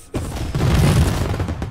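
Gunfire in the video game Mafia: one sharp boom right at the start, followed by a dense, rumbling burst that stays loud for the rest of the short moment.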